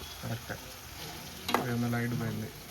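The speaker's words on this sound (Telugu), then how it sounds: "నిమిషాలకు ఒకసారి కలుపుకోవాలి లేదంటే మాడుతుంది" Meat fries in a pan with a soft sizzle and a few quiet stirring scrapes, while a low tonal hum rises partway through.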